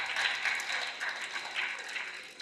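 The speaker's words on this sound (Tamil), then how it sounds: "நம்முடைய கைத்தட்டலை காணி." An audience claps together at a students' speaking event, a dense, even patter of many hands held steady for a couple of seconds, somewhat distant and moderate in loudness.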